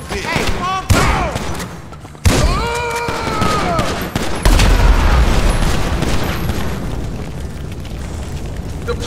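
Heavy gunfire and booming blasts fill a junkyard shootout in the video game GTA 5, loud and near, with sharp bursts over a constant roar and characters shouting over the noise.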